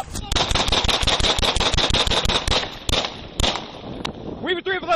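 Rapid gunfire in a police shooting: sixteen sharp shots in under ten seconds crack in quick, rhythmic succession, then a few spaced final shots, followed by someone shouting.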